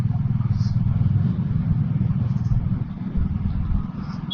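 A super tourer type motorcycle rides on a road in Kolkata, giving a steady, close low engine rumble with slight dips, while a voice talks faintly over it.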